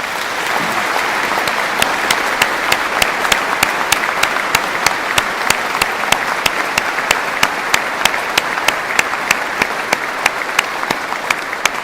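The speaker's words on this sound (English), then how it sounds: "Can we give them a big round of applause, please?" Sustained, dense applause from a large audience at a university graduation ceremony, steady and even for the whole stretch with crisp individual claps standing out.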